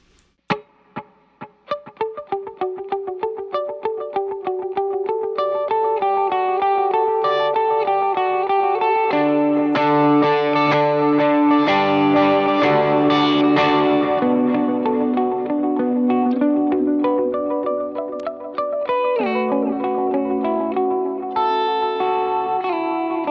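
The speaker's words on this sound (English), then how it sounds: "That's got some reverb and a dotted eighth setting." Electric guitar notes ring out through heavy reverb and rhythmic repeating dotted-eighth delay in a U2 style, echoes layering into a dense, shimmering wash with no talking.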